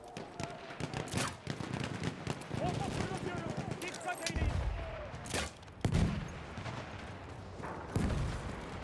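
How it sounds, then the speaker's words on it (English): Gunfire from an Obrez pistol in the video game Battlefield 1: sharp, loud shots and bursts come in irregular clusters, and someone talks over them throughout. "Obrez is like a semi-automatic pistol."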